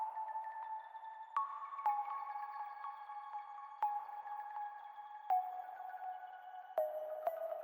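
A synth pluck patch plays in an electronic music production, a series of sharp, bright, plucked notes with short decays stepping through a melody, quiet and with no voices.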